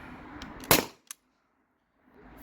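A single sharp shot from a modified T4E HDP50 HPA gun running at 900 PSI cracks loud and close, followed by a brief impact tick and then near silence.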